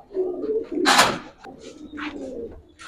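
Giribaj racer pigeons cooing nearby in soft, low repeated coos, with a louder burst of wing flutter or movement in the middle and a few brief higher calls.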